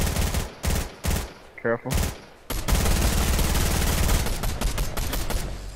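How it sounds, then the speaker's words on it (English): Rapid automatic gunfire from the video game Fortnite rattles in several loud bursts, then a long sustained stream of shots, while a player briefly speaks over it. "Somebody shooting from the left."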